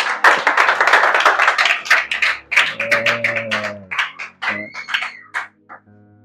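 A church congregation claps for the Lord, loud close clapping at first that thins into scattered separate claps, with a few voices and a held tone underneath before it fades out.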